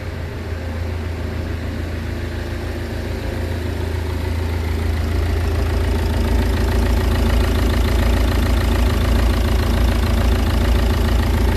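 A Citroen C5 engine idles steadily just after a timing belt replacement, a loud, close, even rumble with a faint rhythmic ticking and no voices.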